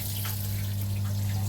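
Pond pump drawing water from a bottom drain through a Cetus sieve and a large UV filter, giving a steady, close rush of flowing water over a constant low hum.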